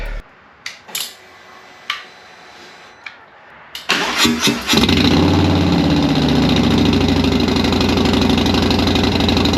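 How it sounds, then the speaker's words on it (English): A motorcycle fitted with an SPC Black Onyx Lane Splitter 2-1 exhaust cranks with a few short bursts, then fires up at about four seconds and settles into a loud, steady, close idle with no talking. "We're going to get this whole thing just buttoned up so that I can start the bike."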